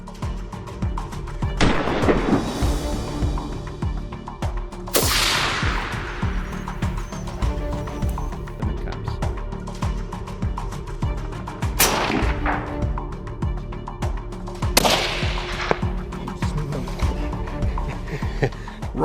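Rifle shots ring out during a baboon hunt in thick savannah grass, several sharp cracks at irregular intervals, each followed by a rolling decay over steady outdoor background noise.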